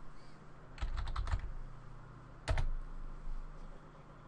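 Password keys tapped on a computer keyboard, a quick cluster of clicks followed by a couple of firmer keystrokes, close and clear against a quiet room hum.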